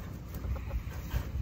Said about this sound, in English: Yeah, that's a rooster.